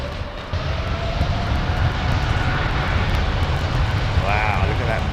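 An airliner landing at London Heathrow Airport, its engine roar rising steadily over a rumbling low drone with a whine sweeping in near the end, and a voice talking over the noise.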